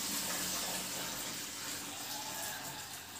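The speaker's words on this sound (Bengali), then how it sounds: "এই জলটা এই ধুতি দিয়ে এই ছেঁকে দিলাম।" Water is poured and strained through a dhoti folded four times into a bucket, a quiet, steady rushing trickle that runs on without pause.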